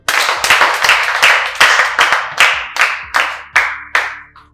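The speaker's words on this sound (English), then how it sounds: "Clap for him." A small group claps in a classroom setting: about ten sharp, evenly spaced bursts of clapping in a steady rhythm, loud and close, with no talking over them.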